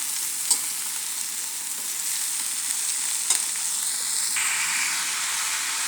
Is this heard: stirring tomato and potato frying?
yes